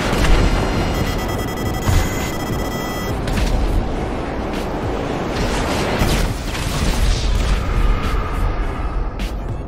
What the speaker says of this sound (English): I hit myself with my own missile.